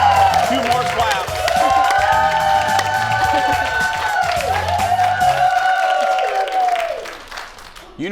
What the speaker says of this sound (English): Two more claps.